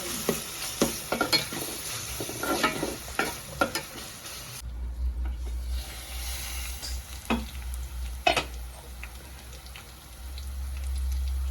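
Tomato pieces cooking in a pan for egg curry, with soft sizzling and intermittent stirring scrapes and clinks, close and moderately quiet; partway through a low background rumble starts, and no one talks.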